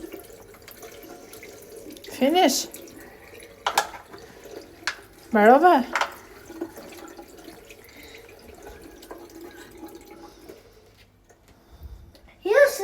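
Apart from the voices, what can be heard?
water running from tap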